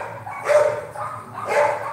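A dog gives two short, muffled barks or yips about a second apart, moderately close, against a low background murmur.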